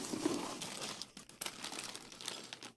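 Crinkly packaging being torn and crumpled open from the box of a Minsine Burning Fire electric guitar with a Floyd Rose tremolo, close and busy with dense rustling and a few sharper tears, no talk.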